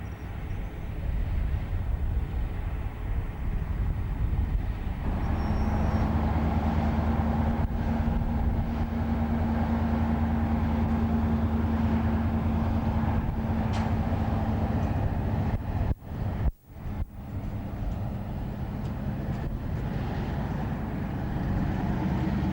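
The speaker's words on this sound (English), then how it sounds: "the locomotive is seen running around its train in the yards at Westbury" A British Rail diesel locomotive runs around its train in the yards at Westbury, a steady distant engine drone and rumble with a faint tonal whine, joined briefly by knocks and clanks near the end.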